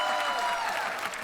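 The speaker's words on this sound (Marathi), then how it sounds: "जोरदार टाळ्या त्यांच्यासाठी झाल्या पाहिजेत." A studio audience at a Marathi comedy show claps for a visiting actor, a steady wash of applause heard fairly faintly and evenly throughout, with no one speaking over it.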